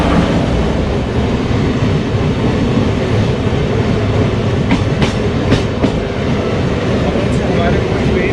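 A train rolls past close by near Secunderabad, a loud steady rumble with rhythmic clickety-clack of wheels over rail joints, heard with a voice talking over it.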